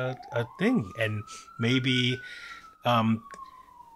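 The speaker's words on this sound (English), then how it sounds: "I love that there's an ambulance is going by." An ambulance siren passes outside, a slowly rising and falling wail running steadily underneath close indoor speech, faint and distant behind the talking.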